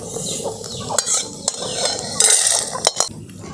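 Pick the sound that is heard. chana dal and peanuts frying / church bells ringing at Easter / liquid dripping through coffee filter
chana dal and peanuts frying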